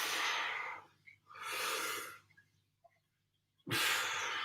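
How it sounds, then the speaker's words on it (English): Heavy, deep breaths during an upper-body home workout: two long broadband exhalations in the first two seconds, a quiet pause, then another strong breath near the end, close to the microphone with no talking. "Big deep breaths, keep it going."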